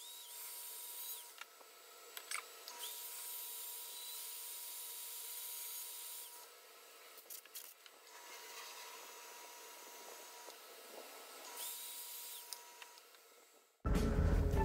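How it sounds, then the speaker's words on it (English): Steady abrasive hiss of a power sander on a wooden bowl, running in long stretches with short pauses, followed by a sudden louder burst at the end. "Here we start sanding."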